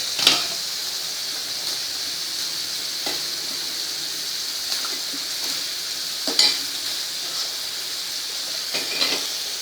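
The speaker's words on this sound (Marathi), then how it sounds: "पास्ता पण मी हलवून घेते" Pasta being stirred in a pan with butter-sauteed vegetables, a steady soft sizzle with occasional scraping strokes of a spoon against the pan, close and alone.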